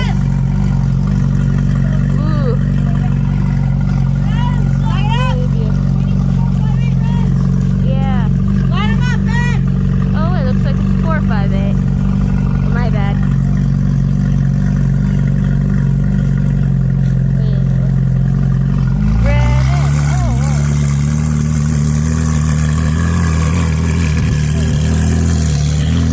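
A Ferrari 488 at a car meet revs its engine loudly and close by, in steady roaring pulls that climb toward the end, while people talk and shout over it.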